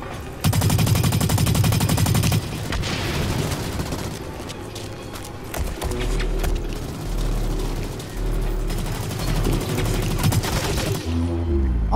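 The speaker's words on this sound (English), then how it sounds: "Oh, I tried to shoot through the wall." Automatic gunfire in the shooter game Blacklight: Retribution, sharp rapid bursts near and loud, with booming impacts and a low engine-like rumble in between.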